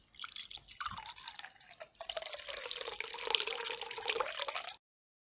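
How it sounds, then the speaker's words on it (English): Water pours from a jug into a cup in a soft, continuous trickling stream that shifts once partway through and then stops abruptly, heard close and alone. "I just had some water in my jug and I was pouring it into my cup."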